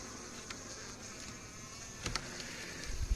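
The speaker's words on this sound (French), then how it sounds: "c'est pas des abeilles, c'est des mâles qui bougent." A steady, faint buzzing of many male honeybees (drones) flying around an apiary hive, continuous throughout with a couple of soft bumps near the end.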